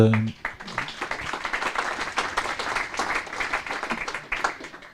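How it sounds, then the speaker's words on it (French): Audience applause for a speaker at a French regional economic and social council session on climate change in Pays de la Loire, a dense steady clapping that follows a brief voice at the start and holds for about five seconds. "merci Antoine, on peut l'applaudir"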